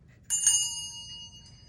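A small bell struck once, giving a bright, clear ring that sustains and slowly fades, heard close in a quiet room without speech.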